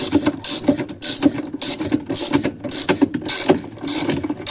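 A ratchet drives a bolt down into the center of a Whirlpool washer agitator, a close, loud run of rapid clicking strokes in a steady back-and-forth rhythm, with no talking over it.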